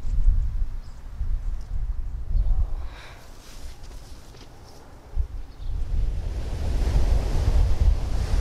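Ocean waves rolling onto a shore, a steady low rushing surf with swells of wind buffeting the microphone, a quieter lull midway before the roar builds again, no voices.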